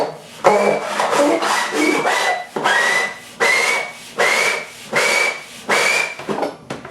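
Rhythmic back-and-forth rubbing on a wooden guitar side during bending and shaping, about eight loud rasping strokes with a squeaky whistle-like tone, close and steady.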